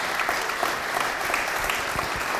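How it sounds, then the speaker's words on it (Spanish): Steady, full applause from an audience honoring a ship captain at a recognition ceremony, a continuous dense crowd clapping that holds at an even loudness throughout. "pido un gran aplauso"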